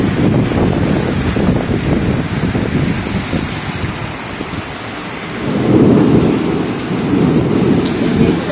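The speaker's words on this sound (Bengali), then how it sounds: "দেখেন কি বৃষ্টি, কি বৃষ্টি" Loud, heavy morning rain in Chittagong drums down continuously, and a deep roll of thunder swells midway through before the downpour carries on.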